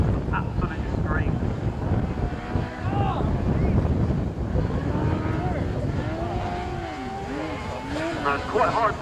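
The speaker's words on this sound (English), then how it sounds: "Those high revving bike engines." Autograss race cars fitted with high-revving motorcycle engines scream around the dirt track at Castle Combe, their rising and falling engine whines overlapping at a distance under heavy wind buffeting on the microphone.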